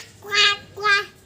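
A young child mimics a duck, giving two drawn-out nasal quacks separated by a brief pause, close and clear with nothing else sounding.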